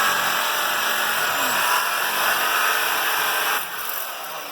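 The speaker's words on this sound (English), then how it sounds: "We got Randy in there on the saw" A saw cuts into a log on a log house repair, a loud continuous power-tool drone that eases off near the end.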